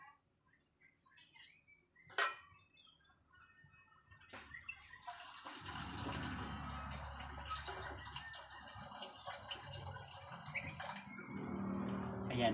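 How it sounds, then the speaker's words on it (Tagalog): Water pours into a pot for making rice native coffee, beginning after a few faint knocks and a sharp clank, then a continuous close splashing gush that builds slightly louder toward the end, with no talking. "maglalagay tayo ng tubig at nilagyan ko na yan"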